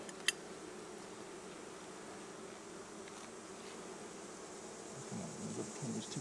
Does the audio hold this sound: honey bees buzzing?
yes